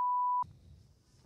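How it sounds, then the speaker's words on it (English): A single loud, pure censor beep tone holds steady for under half a second and cuts off abruptly, leaving faint low room noise behind it. "I'll beep out the name"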